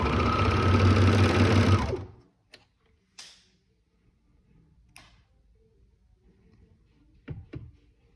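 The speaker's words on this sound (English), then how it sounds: "Fold in half and sew on the raw edge." A sewing machine stitches along the raw edge of folded fabric in a loud, close, steady whir for about two seconds, then stops, leaving a few faint clicks and handling sounds.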